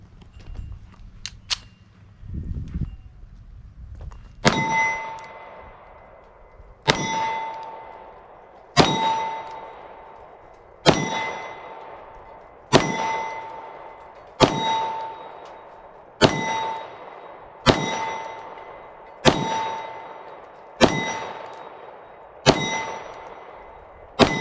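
Shots from a Taurus G3 full-size 9mm pistol ring a steel target in a slow, evenly spaced series of about ten reports, each followed by a bright metallic ding that decays before the next, after some brief handling noise at the start.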